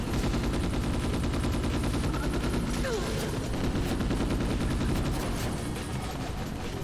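Sustained automatic gunfire from a firefight in the video game Ghost in the Shell: Stand Alone Complex, rapid dense bursts running continuously and loud throughout.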